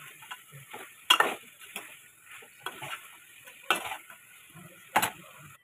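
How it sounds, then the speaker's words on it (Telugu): A spoon scraping and clinking against a pan while potato chicken curry with tomato, salt and chili is stirred, giving irregular sharp taps over a soft, steady sizzle. "ఆలుగడ్డ చికెన్ టమాటా బాగా ఉప్పు కారం వేసి మంచిగా కలిపిన"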